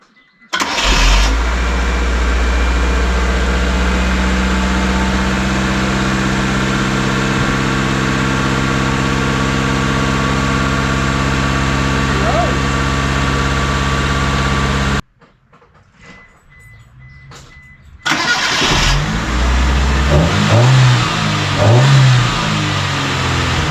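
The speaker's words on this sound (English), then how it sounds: "Let's see if this thing will crank." A car engine, just converted to a five-speed manual transmission, cranks and catches, then runs loud and steady for a long stretch, cuts out, goes quiet briefly, and is cranked again until it fires and runs rough.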